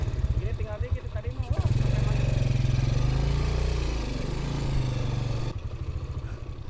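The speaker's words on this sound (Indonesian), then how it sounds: "Wah, kopling lagi motornya." A motorbike engine runs close by with a rhythmic, chugging pulse that holds steady and swells slightly in the middle while people talk over it.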